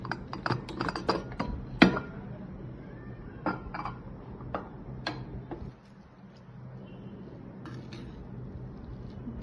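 Cooled pressure cooker being opened after making South Indian tomato rice: clinks and metallic ticks of the lid and weight in bursts, a sharp clack near two seconds, then quieter handling against a steady kitchen hum.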